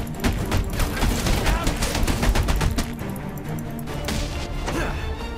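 Deadshot's gunfire in Batman: Arkham Origins, rapid loud bursts of shots with impacts and crashes, dense and near, with faint talk underneath.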